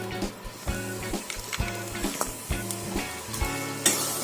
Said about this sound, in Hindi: मैं गुड़ डालूंगी।